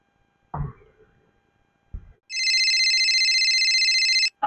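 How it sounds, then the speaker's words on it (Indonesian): A mobile phone rings with a loud, bright electronic ringtone that sounds steadily for about two seconds after a couple of dull thumps, with no talking. "HP sada euy"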